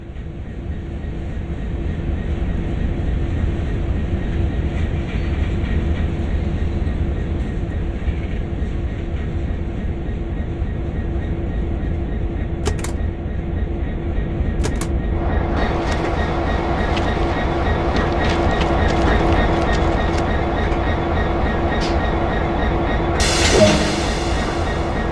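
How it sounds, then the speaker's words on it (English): A diesel locomotive in Train Sim World rumbles steadily as it moves on its own toward a fuel stand, with a continuous loud engine drone, rail clatter, a few sharp clicks and a brief hiss near the end. "move the locomotive over to the fuel stand"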